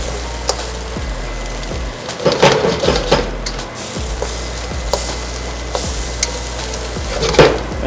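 Seasoned food sizzles on high heat in a hot pan while being stirred, a steady frying hiss broken by repeated scraping strokes and light clacks of the utensil against the pan.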